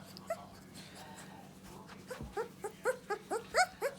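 A puppy whimpers and yips during a feeding, thin high-pitched cries that come faintly at first and then in a quick, louder run of repeated whines near the end, over a low background hum.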